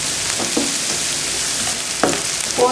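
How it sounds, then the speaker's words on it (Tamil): Onion and green chilli being lightly sautéed in a pan for drumstick-leaf stir-fry, a steady close sizzle with a few soft stirring scrapes and clinks, no voices. "வெங்காயமும் மிளகாயும் சேர்த்துக்கலாம். பொரியலுக்கெல்லாம் வெங்காயத்தை ரொம்ப வதக்கணுன்ற அவசியமாக இல்லை, லைட்டாக வதக்கினாலே போதும்."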